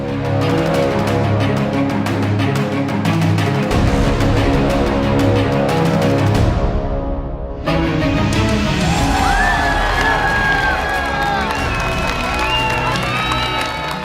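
A loud, excited crowd at a paintball match cheers and shouts continuously over a dense wash of noise, with whistles and rising yells breaking out toward the end.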